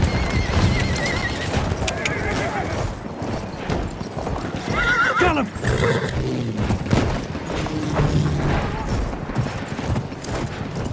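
Horse galloping and neighing in the Battlefield video game, rapid hoofbeats under rising whinnies amid distant gunfire and booms, with shouted voices over the action.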